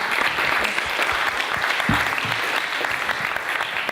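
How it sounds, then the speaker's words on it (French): A room full of people applauding, a steady patter of clapping throughout with a few louder claps standing out. "Je pense qu'on peut les applaudir."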